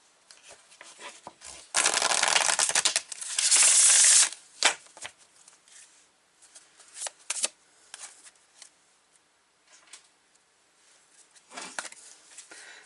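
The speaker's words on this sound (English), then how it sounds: "So these are the pure magic cards. I'm going to take some." A deck of magic cards is shuffled close up, with a loud riffling burst followed by lighter, scattered card taps and flicks at irregular intervals.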